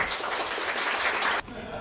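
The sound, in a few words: audience applause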